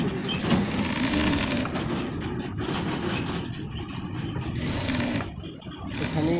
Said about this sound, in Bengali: এবার সাইড সেলাইটা যতটুকু ফাড়া রাখা হয়েছে অতটুকু থেকে টাক দিয়ে ভালো করে সেলাই শুরু করতে হবে।